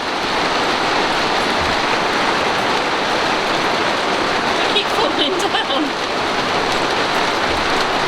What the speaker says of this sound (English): the weather is so bad outside. We've got hailstones